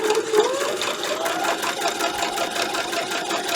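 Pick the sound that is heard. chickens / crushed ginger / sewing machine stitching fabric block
sewing machine stitching fabric block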